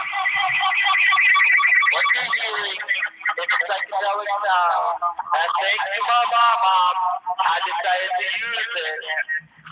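Recorded high-frequency cosmic space sounds: warbling, chirping electronic tones sweeping and wobbling in a dense band, continuous and fairly loud with brief dropouts.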